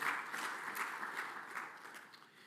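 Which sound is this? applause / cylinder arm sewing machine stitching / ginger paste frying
applause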